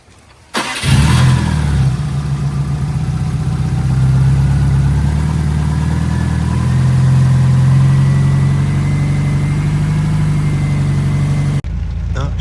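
A 2005 Subaru STI with a newly installed oil pump cranks, catches and settles into a steady, close idle that holds smoothly for about ten seconds before cutting off.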